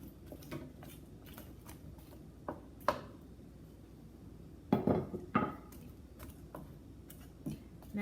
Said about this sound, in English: I'm going to add in the onions and kind of break them up a bit.